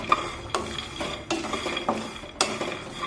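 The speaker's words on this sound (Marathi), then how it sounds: "शेंगदाणे सुद्धा उलटण्याने असे सतत हलवत राहायचं" Peanuts dry roasting in a pan, stirred with a spatula: rattling, scraping strokes arriving in bursts about every second over a faint sizzle, close and without talk.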